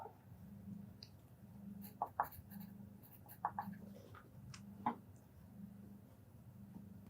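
Pencil scratching across paper in a quiet exam room during a speaking test, a soft steady drag with several short sharper taps and strokes over a low background hum, close and faint, no one talking.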